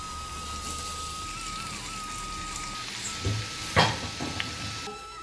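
Steady crackling sizzle of tomatoes frying in sesame oil in a pan, with a few clinks and stirring knocks near the end, no voices.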